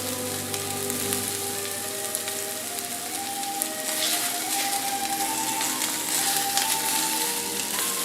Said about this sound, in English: Here again, we don't want to cook these completely in here. We're just getting them browned a little bit.